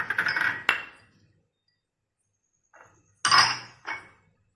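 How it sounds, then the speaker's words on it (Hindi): Tulsi leaves, ginger and a paan leaf are pounded to draw out their juice: a few sharp, clinking knocks, close by, with short silent pauses between the strikes. "तो रस निकालने के लिए हम इन्हें थोड़ा कूट लेंगे।"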